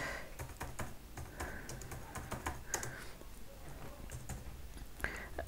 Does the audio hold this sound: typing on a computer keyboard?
yes